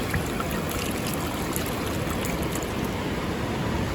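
Sand and seawater sifted through a cheap dollar-store colander on a San Diego surf beach to collect bait, a steady close wet rushing and trickling wash that runs unbroken throughout.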